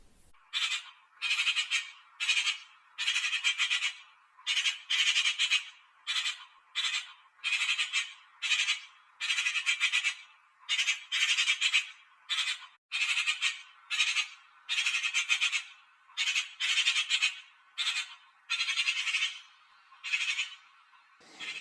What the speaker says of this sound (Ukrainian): сорока. Це осілий зимуючий птах.